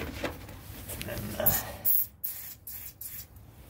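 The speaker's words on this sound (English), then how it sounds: "spray a little lube in there to get rid of the filings and stuff" Short hissing bursts of an aerosol lubricant spray can, close up, a few quick sprays in succession into a Briggs & Stratton engine.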